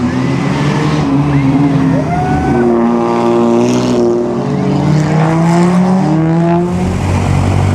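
Around 120 vintage Jaguar cars roar and rev together on a hill climb at the 2013 Mille Miglia, a dense, sustained mechanical drone with rising and falling pitch as vehicles climb past.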